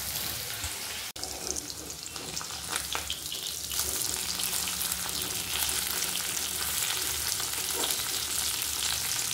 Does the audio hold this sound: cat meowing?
no